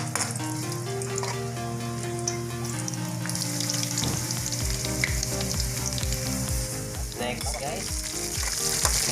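Garlic fries in oil with a loud, continuous sizzle and crackle that brightens partway through, along with occasional stirring and a brief voice.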